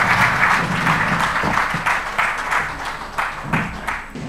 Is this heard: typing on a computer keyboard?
no